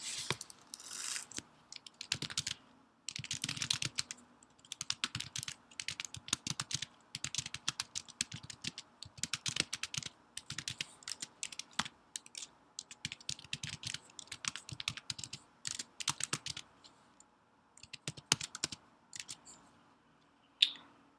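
Fast irregular clicking of typing on a computer keyboard, close and clear, in steady bursts with brief pauses, no voices.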